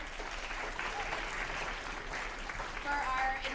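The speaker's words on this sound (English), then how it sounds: "So clap out to our front boosters." An audience claps for the front boosters at a school Writers Week event, a steady, even round of applause from a sizable crowd, filling the hall without pause.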